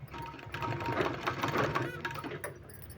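A sewing machine stitches palazzo pant fabric in a fast, steady whirring run of needle clatter, close and fairly quiet, without any speech.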